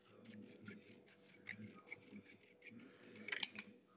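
Scissors snip through a die-cut craft piece in a quick series of close, crisp cuts with brief pauses, steady and fairly quiet throughout.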